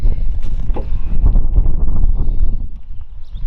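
Wind buffets the microphone in a steady low rumble with gusty rustling, loud and close throughout.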